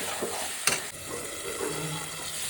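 Masala for a duck curry frying in a pan, with a low continuous sizzle and stirring scrapes, and one brief clatter of the spoon early on.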